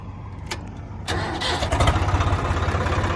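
A tractor engine cranks and catches, then settles into a steady, loud, rhythmic chugging idle close by.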